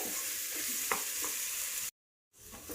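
Potato curry filling for hotel-style aloo paratha fries and is stirred in a pan, giving a quiet, steady sizzle with light scraping that cuts out briefly before resuming.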